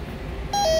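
A fire alarm panel sounds a short trouble beep, two brief tones in quick succession, after a duct detector circuit is broken by pulling a resistor; clear and close above a low room hum.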